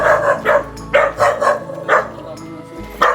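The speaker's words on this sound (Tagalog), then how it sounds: "Daming aso dito." Many dogs bark in loud repeated bursts at close range, with some yips mixed in, while a voice talks intermittently in between.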